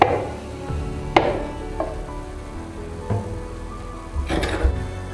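Spices and dried red chillies sizzling in a little oil in a pan for Kongu-style bitter gourd gravy, a steady close frying hiss broken by a few sharp stirring scrapes and clinks.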